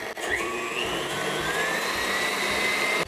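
Electric stand mixer whirring steadily as it beats coconut cake batter, a continuous high motor whine that stays loud and even throughout with no voices.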